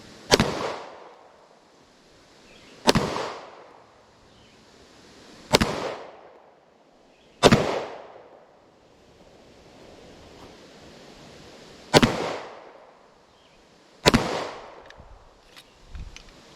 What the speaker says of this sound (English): next I will be shooting full metal jacket 9mm from a Stoger STR9, and we'll see how those penetrate